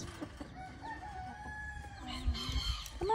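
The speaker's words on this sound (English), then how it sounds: "we're letting out our new turkey hens" Newly bought turkey hens being let out of a pen, heard as steady fowl clucks and crowing-like calls that run through the whole stretch, fairly close, with no talking.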